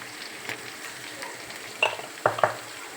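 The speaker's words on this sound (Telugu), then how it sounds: "ఉల్లిపాయలు, పచ్చిమిరపకాయలు వేసి వేయించుకున్నాను" Onions and green chillies with a little turmeric frying in a pan, a soft sizzle with a few sharper spoon clinks against the pan near the end.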